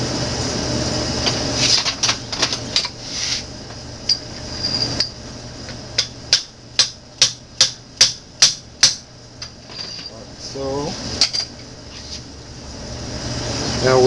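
A hammer taps a new bearing into a Shopsmith Mark V quill for a double bearing upgrade, with a steady run of about ten sharp metallic taps in quick succession and a few scattered knocks before and after, no talk.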